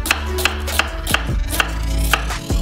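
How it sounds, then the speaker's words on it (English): A knife chops a large onion on a cutting board, giving about eight sharp, evenly spaced strokes close to the listener, with a low hum running underneath. "Cut a large onion in half."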